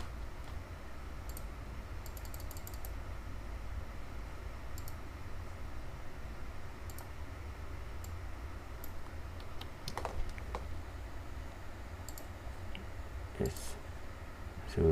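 Quiet clicking of a computer keyboard as someone types steadily, with scattered sharper keystrokes and a faint room hum underneath.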